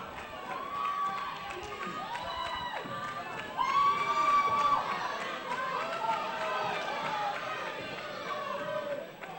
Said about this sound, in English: look at the crowd get behind Jay Lethal.